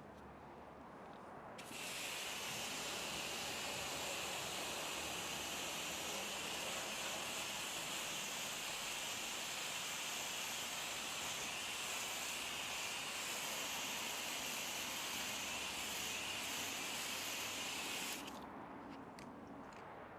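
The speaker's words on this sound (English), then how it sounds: "rinse the face of the wheel and tire" Water sprays steadily onto a car wheel and tire face as it is rinsed after a color-changing wheel foam wash, a continuous close hiss that starts abruptly, runs unbroken for about sixteen seconds, then cuts off.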